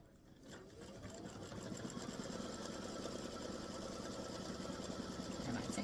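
A sewing machine runs a tack down stitch on an appliqué block, giving a steady, fast mechanical whir that holds evenly from start to finish after a brief quieter opening.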